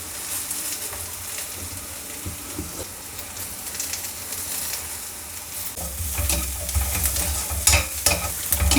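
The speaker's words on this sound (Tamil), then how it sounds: "வெங்காயத்தை தான் நல்லா வதக்கணும்" Onions with mint, ginger and thoothuvalai leaves sauté in hot oil in a pan, a steady sizzle with stirring scrapes that swells louder and crackles more intensely toward the end.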